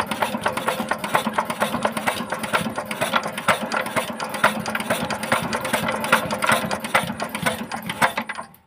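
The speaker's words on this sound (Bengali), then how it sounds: "এবার আমরা এখানে বন্ধু নজলের প্রেশারটা সেটিং করব। সাউন্ডটা একবার শুনুন।" Pressure is set on the injector nozzle of an old Usha Z170F diesel engine, giving a fast, even run of sharp mechanical ticks and clatter close up, with a quick burst of pulses at the very end.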